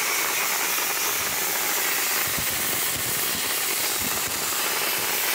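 Dry ice blaster blasting grime off the intake of a DeLorean engine, a loud, steady, continuous hissing roar with rough rattling texture throughout, no talk.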